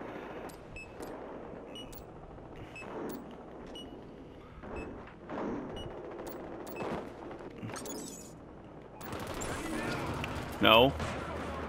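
Rifle fire and other gunfire from the online shooter game Battlefield Heroes crackle in short, repeated bursts among game effects, mostly under a man's loud, agitated talking, with a brief one-word reply.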